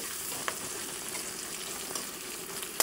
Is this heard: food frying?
yes